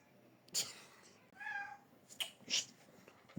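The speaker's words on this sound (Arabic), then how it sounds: "هنلاقي القطط كلها بدات تطلع" Several cat meows in a quiet indoor setting, short separate calls spaced across a few seconds, moderately close and alone without talk.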